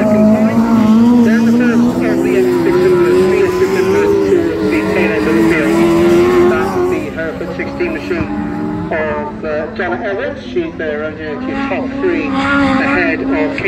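Autograss race cars, including F600 class machines, roar around a farm field circuit while a commentator talks over them. Engine whine is loud and sustained, rising and falling as the cars pass.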